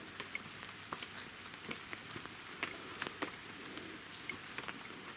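Steady rain falling outdoors near a garden with a rabbit run, a quiet even patter with scattered nearby drops tapping on surfaces throughout.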